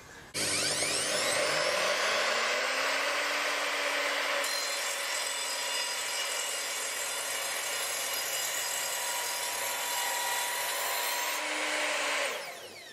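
Evolution R255SMS sliding mitre saw making a bevel cut in wood: the motor whines up sharply, the blade chews through the wood with a steady loud buzzing rasp for about twelve seconds, then winds down.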